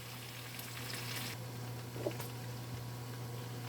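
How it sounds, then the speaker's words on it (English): Faint, steady sizzling of bacon frying in a pan, with a low hum and a couple of soft clinks. "that bacon's frying up"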